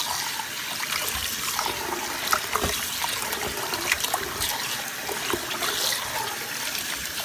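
Running water pours steadily over dried rice noodles being rinsed until cool, a continuous close splashing trickle with small irregular spatters.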